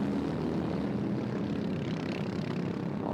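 A Honda-engined racing kart straining uphill during an endurance race, its engine a steady, loud droning buzz that holds constant throughout with no break.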